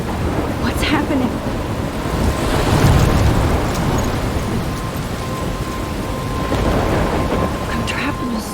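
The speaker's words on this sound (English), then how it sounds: "I'm trapped in a storm?" Rain falls steadily with rumbling thunder in a thunderstorm in the video game Life is Strange, a continuous wet hiss with low rolling swells and some wind, no talking.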